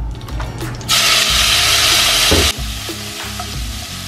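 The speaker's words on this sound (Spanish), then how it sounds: "Ponemos a calentar aceite, sartén caliente y carne para adentro." Beef hits hot oil in a preheated frying pan and bursts into a loud, close sizzle that lasts a couple of seconds, then settles into a steadier, quieter frying hiss with low rumbling underneath.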